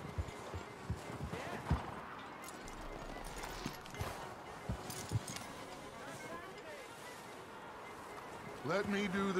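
Horse hooves clip-clop in Red Dead Redemption 2 as a rider pulls up to hitch, the steps irregular and moderately close amid busy ambient game sound, with a voice talking over it.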